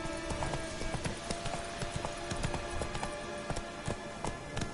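Roach the horse gallops in The Witcher 3: Wild Hunt, with quick, steady clip-clop hoofbeats repeating at a close, moderate level over a faint outdoor backdrop.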